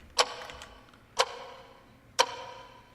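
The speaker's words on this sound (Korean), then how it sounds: "시계 소리가 왜 더 커진 것 같지?" A clock in the horror game Ib ticks loudly and sharply, three evenly spaced clicks about a second apart, each ringing briefly against a quiet background with no voice.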